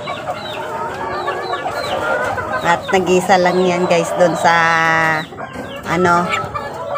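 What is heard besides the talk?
chick clucking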